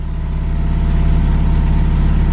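A Fiat Cinquecento 700 fitted with a Fiat 126p carburetor idles steadily after a cold start at minus five degrees, a close, loud, even low engine thrum with no voices.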